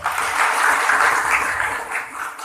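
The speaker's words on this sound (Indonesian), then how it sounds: "Tepuk tangan untuk Pak Andi Rustono." A crowd at a Malang Regency government event claps steadily, a dense, even patter of applause that holds throughout and tapers slightly near the end.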